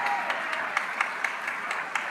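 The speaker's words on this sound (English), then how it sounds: "let's give her a round of applause" Applause from an award ceremony audience for a custodian being honored, a brief burst of dense clapping with a few distinct sharper claps spaced through it.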